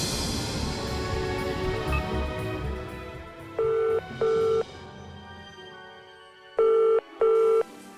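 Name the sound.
telephone ringing unanswered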